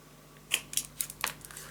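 Scissors cutting paper for a pop-up scrapbook album, several quick, crisp snips in an uneven sequence, close and fairly quiet over a faint steady hum.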